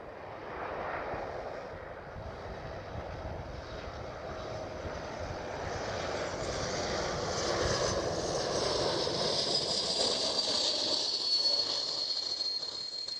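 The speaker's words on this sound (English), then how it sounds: "There it is, KLM Cityhopper E195E2." KLM Cityhopper Embraer E195-E2 jet on final approach at Schiphol Amsterdam, a distant, broad engine roar and whine slowly swelling in loudness as it nears, heard alone without talk.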